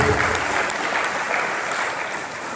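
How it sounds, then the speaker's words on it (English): Audience applause for a university Vice Chancellor after his speech, a dense, steady clapping that fills the whole stretch at close, loud level with no talk over it. "Please, a round of applause for the Vice Chancellor for that wonderful speech"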